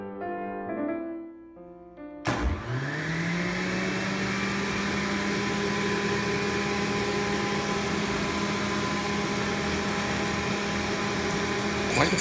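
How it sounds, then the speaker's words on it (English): A juicer processes twigs and stems, starting abruptly after a short stretch of tones and then running as a loud, steady motor whine and grinding hum that holds at an even level to the end. "Let's get going with the juicer."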